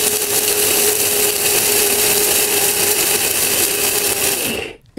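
An Orpat 2000 watt, 22,000 rpm blender grinding contents to powder, a loud steady high-pitched whine held for about five seconds before cutting off abruptly.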